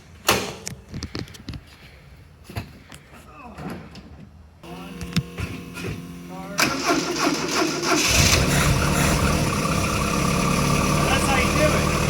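A Ford car in a home garage cranks and catches after a stretch of quiet shuffling, then revs briefly and settles into a steady, close idle, while people talk nearby.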